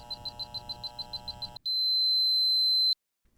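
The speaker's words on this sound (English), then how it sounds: "the beeping from the controller increasing in speed each cycle" A gate motor control box beeps during limit learning: a rapid string of short electronic pips, then one long steady tone that cuts off into silence, clear and close.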